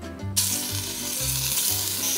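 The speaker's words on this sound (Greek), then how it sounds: "Ελαιόλαδο στην κατσαρόλα. Προσθέτω μέσα το χοιρινό κρέας." Pork sizzling as it hits hot olive oil in a pot, a loud, steady frying hiss that bursts in and continues without talk while a low musical bed pulses underneath.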